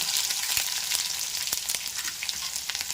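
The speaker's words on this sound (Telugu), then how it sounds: "ఇవన్నీ ఇప్పుడు ఉల్లిపాయ ముక్కలు వేస్తున్నాం." Onion pieces hit hot oil with curry leaves in a pan, giving a loud, continuous crackling sizzle close up, with scattered pops and spatters and no speech.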